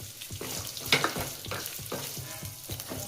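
Chopped onions, green chilli, garlic and cashews fry in a pan, a steady close sizzle broken by regular scraping stir strokes and a brief louder crackle near the start, with no talking.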